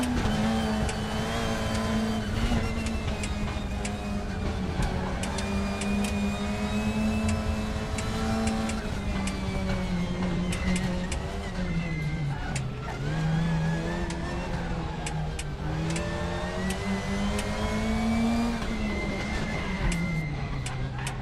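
Honda Civic and BMW touring cars racing in a WTCC event of a racing video game, a loud continuous engine drone whose pitch swells and dips through gear changes, with no talking.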